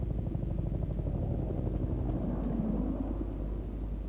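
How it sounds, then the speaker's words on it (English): Steady rotor throb and engine rumble from an evacuation helicopter in the video game Peridium, loud and continuous throughout without speech. "Is that the evac chopper?"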